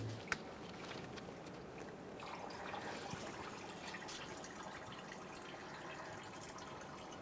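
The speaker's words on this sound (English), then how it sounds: "Now that the coolant is finished draining," Coolant drains from the radiator drain plug of a 1994–2001 Dodge Ram 1500 with a 5.2L V8 into a collection receptacle, a steady, faint trickling wash with no pauses.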